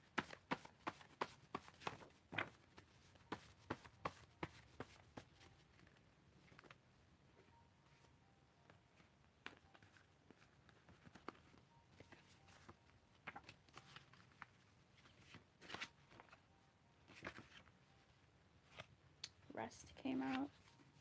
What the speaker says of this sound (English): I shuffled it wrong, so like all the sides are just messy.